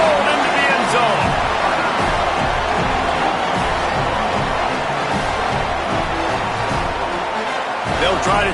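A packed college football stadium crowd at a USC versus Texas Tech game roars after a Southern Cal touchdown, a loud sustained wash of cheering that runs throughout with a commentator talking over it.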